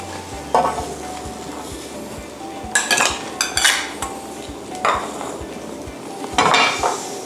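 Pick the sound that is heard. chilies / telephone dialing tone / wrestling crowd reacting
chilies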